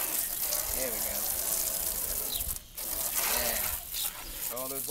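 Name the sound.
water hose rinsing soap off a truck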